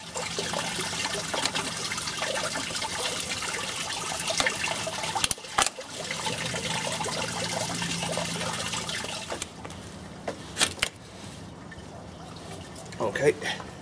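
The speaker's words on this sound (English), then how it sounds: "it's fairly sludgy looking down there, coming out of the top of the stat housing into the bucket" Sludgy old coolant drains from the top of a Mk2 Golf thermostat housing into a bucket as a steady, close splashing trickle, with a few sharp knocks and clunks toward the end.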